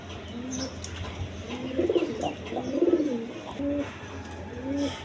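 A pair of red Gorra pigeons coo close by in soft, repeated low phrases, several overlapping calls rising and falling in a gentle rhythm, with no talk.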